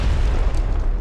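A grenade explodes in PUBG, a deep, loud, rumbling boom that fills the whole moment with low-end weight.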